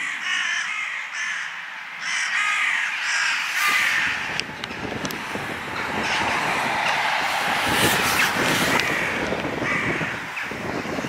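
Crows caw repeatedly from a tree near a bridge on a cold day, loud and close overlapping calls, joined partway through by a low continuous rumble underneath.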